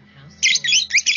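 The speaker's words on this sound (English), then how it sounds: "Parrot." Parrot calls: a few sharp, bright chirps and squawks in quick succession, loud and near, following a softer lead-in.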